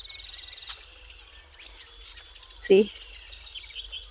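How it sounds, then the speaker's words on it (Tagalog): Birds chirp and twitter in the distance among spring blooms, with a short spoken word from a nearby voice cutting in briefly. "E narinig nyo ba yung huni ng ibon,"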